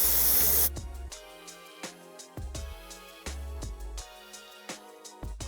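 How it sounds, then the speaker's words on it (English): Airbrush spraying gunmetal gray paint onto the base of a 3D-printed figure, starting with one long steady hiss, then a string of short hissing bursts, close and moderately loud with no talking. "we're going to go ahead and paint the bottom part of this base that same gunmetal gray"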